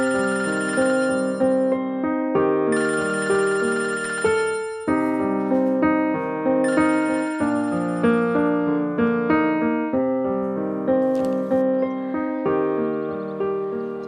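A melodic phone ringtone plays loud and alone in a repeating pattern of bright chimed notes, ringing continuously in the middle of the night.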